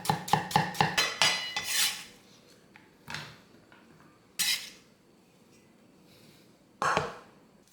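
Knife slicing a peeled, quartered hairy melon on a cutting board: a quick run of six or seven crisp chops, then a few scattered single cuts after pauses, close and clear with no talk.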